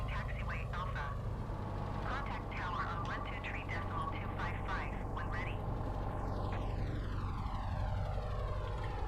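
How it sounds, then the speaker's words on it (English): A plane's engine drones steadily in Microsoft Flight Simulator at a low, even level. A falling whine sweeps downward near the end, and a voice talks over it throughout. "This plane has some really interesting sounds."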